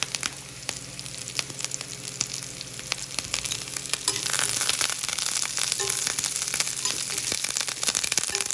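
Curry leaves dropped into hot oil for a Kerala roasted-masala country chicken curry crackle and sizzle loudly up close, with sharp pops and spitting that intensify partway through.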